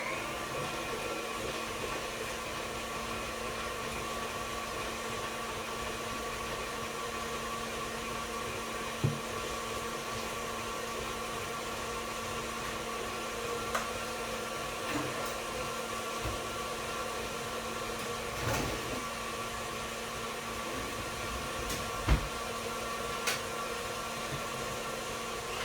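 Electric mixer whipping a batter until fluffy before eggs go in, a steady continuous whirring drone held for the whole stretch with a few small clicks and knocks along the way.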